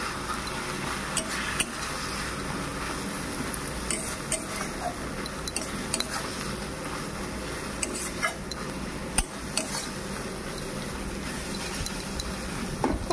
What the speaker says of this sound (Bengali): তো এখানে এটাকে ভালো করে মিক্সড করে নেব।